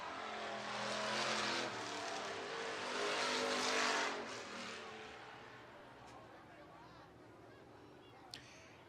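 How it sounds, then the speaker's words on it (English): IMCA race cars roar around Kossuth County Speedway in Algona, Iowa, during a heat race. Faint, distant engines rise and fall as cars pass, with a muffled voice in the background. "Heat race number 3, Brandon Sherritt of Clear Lake"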